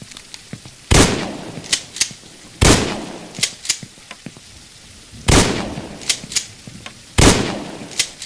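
Loud weapon shots from an unfinished video game's weapon showcase, four heavy blasts spaced a couple of seconds apart, each followed by lighter mechanical clicks and clacks of reloading or handling animations, with no talking.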